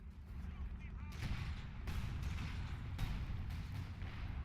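Mortar and grenade fire in the World War II video game Battle for Caen, a run of dull, booming blasts and rumbling impacts layered over a continuous battlefield din, with a voice talking underneath.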